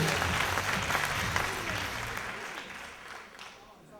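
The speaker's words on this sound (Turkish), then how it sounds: "Dolayısıyla kendisine çok büyük alkışlarla tebrik ediyoruz." Audience applause at a Turkish talk event, dense steady clapping that is fairly loud at first and gradually tapers off over a few seconds.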